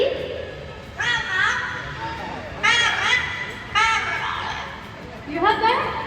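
A parrot at an aviary imitates a human voice in a series of squawky, speech-like phrases, four short bursts spaced through the clip, close and moderately loud over faint background noise.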